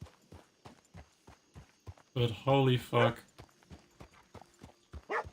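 Horse hooves clip-clop in a steady walking rhythm in a Western roleplay video game, close and clear, with someone speaking loudly over it partway through.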